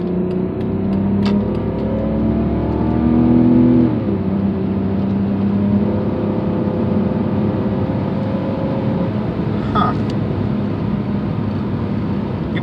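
A modded BMW E46 325i engine revs up and accelerates hard, its loud, rising drone climbing through the gears with a brief shift dip, close and steady throughout with no talking.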